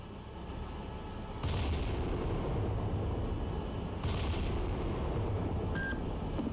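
Naval guns fire in the submarine game Cold Waters, sending two heavy booms over a constant deep rumble of engine and sea noise, with a short electronic beep near the end.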